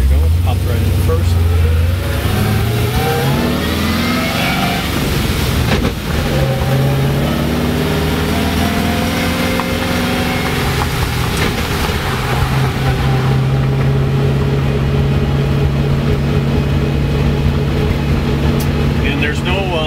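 A car fitted with a dog-ring T56 manual transmission driving in gear, steady engine drone rising and falling in pitch through a shift, loud and continuous beneath someone talking.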